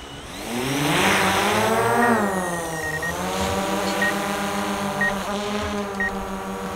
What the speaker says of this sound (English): warm the motors up just a little bit before we take off here